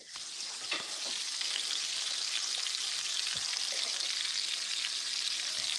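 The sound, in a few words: onions and mushrooms frying in a pan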